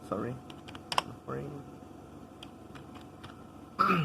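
Keystrokes tapped on a computer keyboard while entering machine coordinates, a few scattered clicks with short bursts of activity over a quiet room background.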